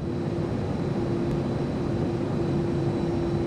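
A propeller airplane's engine drones in GTA San Andreas. The steady, even hum with a constant tonal whine holds unbroken at one level throughout.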